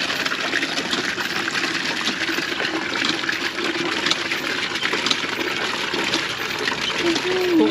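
A water pump pushing water in a steady, loud gushing rush that runs throughout, with a faint mechanical hum underneath and brief talking near the end.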